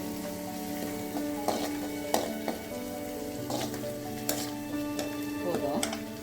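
Onions, green chillies and coriander frying in a pan give a steady sizzle, broken by several sharp clinks and scrapes of a spoon stirring, close and moderately loud with no speech.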